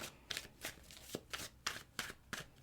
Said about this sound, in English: So let me just shuffle a few times and then we'll get your spread out.